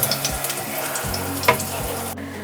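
Capsicum and onion fry in oil over a low flame, a steady bright sizzle broken by a few stirring clatters and brief pops, close and moderately loud with no voices.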